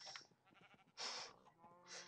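Sheep in a Minecraft modpack farm game bleat in a few short, nasal calls, two of them louder and closer, with no talk over them.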